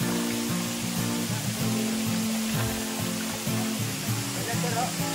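Waterfall roars as a steady, loud broadband rush throughout, with people talking excitedly over the constant falling water.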